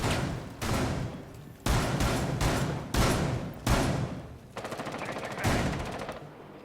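Gunfire inside a church in Rainbow Six Siege during a pro league PC match: about six sharp, loud bursts of automatic fire, each cutting off abruptly, the last ones rattling in rapid, even shots.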